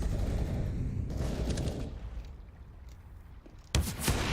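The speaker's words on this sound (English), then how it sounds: "Simple fires this time and makes no mistake" Gunfire in the Counter-Strike video game during a professional esports match: dense rapid bursts of shots, then a quieter stretch, then a sudden loud burst near the end.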